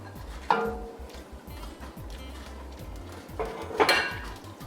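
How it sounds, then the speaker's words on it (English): Beans tipped into a pot of Hawaiian chili, two short bursts of clattering and clinking from cookware and utensils over a quiet, low kitchen background. "We're going to add the beans in now."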